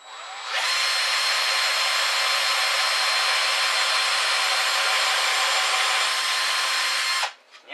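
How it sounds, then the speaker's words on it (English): A power drill bores a pilot hole into particle board, spinning up abruptly and holding a steady, loud whine for several seconds before cutting off sharply. "The idea behind pre-drilling your hole is so that it doesn't split."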